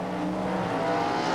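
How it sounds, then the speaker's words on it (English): Drag racing cars revving hard and launching together at the start line of a 1992 Can-Am Nationals race, a loud continuous engine roar close by with no talking. "Engines come up to RPM and they're off."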